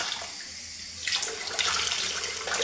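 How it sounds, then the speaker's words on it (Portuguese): Tap water runs steadily into a sink, then the flow changes and splashes louder as a konjac sponge is rinsed under it, close and continuous. "Deixa eu dar uma enxaguada nele agora com água corrente."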